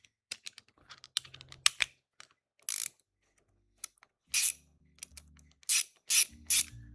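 A hand ratchet clicks in short bursts while bolts are turned on a Toyota MR2 engine. The sharp, close clicks come in irregular spurts between pauses, joined by faint metallic rattles, and no voice is heard.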